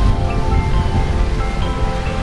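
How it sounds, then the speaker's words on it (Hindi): Rain falling in Sector 12 of Gurgaon on an evening, a steady, dense wash of hiss and patter that stays even and fairly loud throughout, with no voices. "मैं मौजूद हूँ इस समय गुड़गांव के सेक्टर 12 में, जहाँ बारिश हो रही है"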